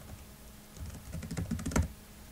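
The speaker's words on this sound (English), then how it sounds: "it says to type potential volunteer opportunity" Fingers type a short phrase on a computer keyboard, a close burst of rapid light key clicks building to a louder cluster near the end, with no talking.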